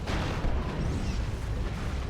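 The Torrent formation nuke in Dawn of War 2 erupts in a dense, roaring explosion that rumbles continuously and loudly throughout, with deep booming energy and no voices.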